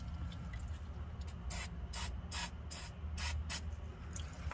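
Short bursts of spray hiss under a 2005-2009 S197 Mustang as bolts are hosed down, several pulses close by over a low background rumble.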